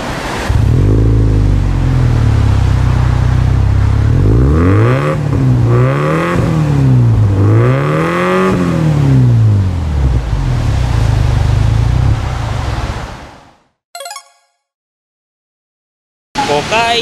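A car with an aftermarket AutoExe exhaust revs hard three times in rising and falling sweeps over a steady idle, loud and close, then cuts off to silence.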